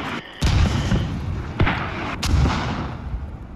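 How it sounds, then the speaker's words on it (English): Enemy mortar rounds land in the military shooter game Squad, a few heavy booming impacts over a constant rumbling battlefield background, with no talk. "Can we get location of those enemy mortars?"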